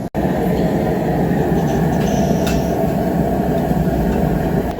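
A homemade blacksmith power hammer runs steadily and loudly for the whole stretch, forging a railroad spike into a knife, with a dense continuous mechanical roar and no clear separate blows.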